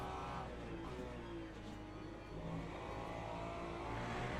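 Racing cars, a Porsche and a Ferrari, in a sim race at Monza, held at a steady engine roar as they accelerate, with layered engine tones running continuously throughout.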